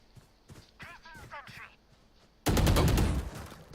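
Loud burst of rapid gunfire in the tactical shooter VALORANT during a tournament match, starting abruptly after quieter game sounds and light speech, then continuing as dense sustained shooting to the end.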